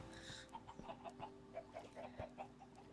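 Chickens in a video game world cluck in short, repeated bursts over a faint steady ambient drone, quiet and evenly spaced, with no voices.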